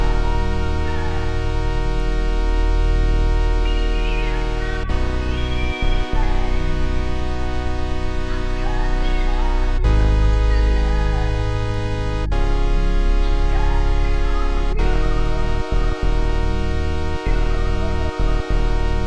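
A dense electronic beat with a deep bass line under sustained synth chords built as 1-3-5 triads, changing every few seconds, loud and continuous with no speech or drums.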